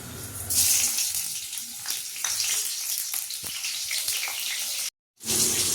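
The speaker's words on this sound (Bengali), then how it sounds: "এই তেলের মধ্যে 5 ফোড়ন আর কাঁচা লঙ্কা ফোড়ন দিয়ে দেবো।" Panch phoron spice seeds and green chilies sizzle and crackle steadily in hot oil in a kadai. The hiss is loud and continuous, with brief pops, then cuts out for a moment near the end before resuming.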